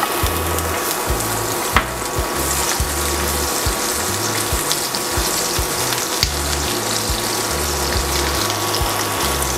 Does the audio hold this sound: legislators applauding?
no